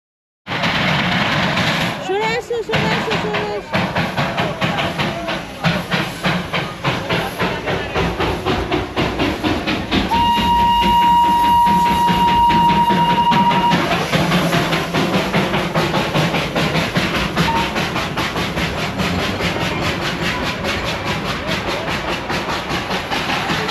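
The Darjeeling toy train's steam locomotive stands while being loaded with coal, giving a steady hissing, clanking rumble, a brief sustained whistle-like tone midway, and voices talking nearby.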